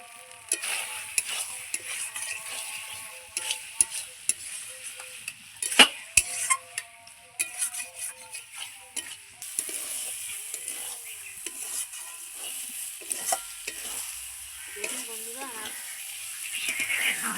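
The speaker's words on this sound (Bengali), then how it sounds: "কষানো হয়ে গেছে তার জন্য এরকম ভালো করে কষিয়ে নিয়েছি" Duck egg and capsicum masala sautéing in a pan, a low sizzle under irregular scraping and clinking strokes of a spoon, close by, while a voice talks over part of it.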